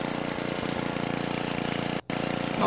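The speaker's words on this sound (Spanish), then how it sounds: "Ahora vendrá el tractor y me chafará todo." A steady, chugging engine drone with a regular idling pulse runs throughout, briefly cutting out for a moment near the end before resuming, from a tractor in the Happy Wheels video game.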